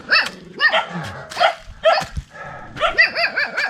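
A dog barks repeatedly in short, yappy bursts close by, with brief pauses between volleys.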